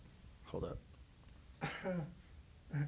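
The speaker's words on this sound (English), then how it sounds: "Just cough, bro." A person nearby gives a few short throat-clearing coughs in separate bursts, with a brief spoken remark between them.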